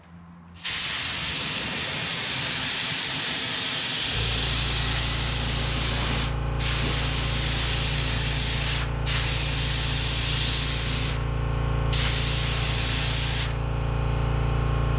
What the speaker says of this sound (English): Let's give it a third and final coat.